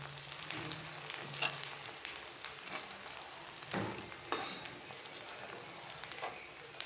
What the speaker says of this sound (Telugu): పచ్చివాసన పోయేంత బాగా వేయించుకోండి